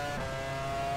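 Rear tyres of a 2000-season Formula One car spin up in the F1 Challenge 99-02 racing game at the San Marino Grand Prix, a brief, steady, loud engine drone with a tonal whine and no voice over it.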